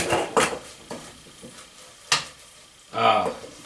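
Utensil stirring onions and garlic frying in a pan: a few distinct metallic scrapes and knocks against the pan, spaced irregularly, over a quiet, faint sizzle.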